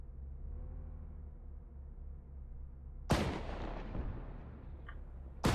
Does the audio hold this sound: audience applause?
no